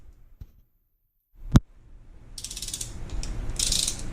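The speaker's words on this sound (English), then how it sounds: "I need to get my torque wrench and make sure I got it set already on 32 foot-pounds" A torque wrench set to 32 foot-pounds clicks and ratchets while cylinder head bolts are tightened on a small block Chevy, with one sharp click and then a run of fast ratcheting.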